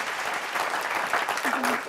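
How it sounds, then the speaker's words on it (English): A studio audience claps in a short burst of applause at a television talk show, close and steady throughout with a voice speaking briefly over it. "how about a round of applause for Mr. Gallups?"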